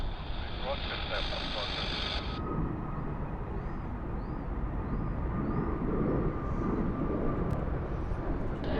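A departing airplane at Sydney Airport gives a broad, steady engine roar throughout, with a brief tonal radio-like burst early on.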